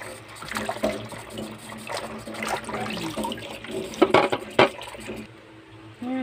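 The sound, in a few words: washing vegetables in running water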